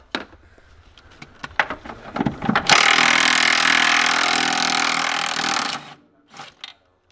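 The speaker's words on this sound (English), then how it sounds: "Now hopefully we can blast them off with an impact." Impact wrench on the upper control arm bolts of an old Honda: scattered tool clanks, then one loud, continuous rattling burst lasting about three seconds before cutting off, followed by a few quieter knocks.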